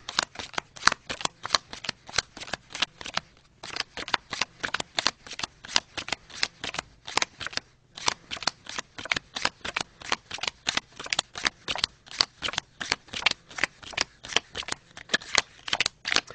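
Playing cards dealt one by one, alternating face up and face down, give a fast steady run of crisp slaps and flicks close up for the whole stretch, with two short pauses and no talking.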